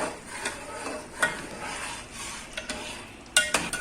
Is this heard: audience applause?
no